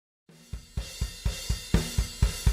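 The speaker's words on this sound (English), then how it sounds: "what you're hearing right now is basically the music with the drums" Synth music for a Harp Warriors game plays over a steady drum beat, with punchy kick hits landing regularly about four times a second beneath sustained bright synth chords, starting after a short silence.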